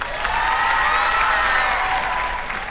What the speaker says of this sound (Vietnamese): Và nếu quý vị thấy hài lòng, có thể vỗ tay ạ.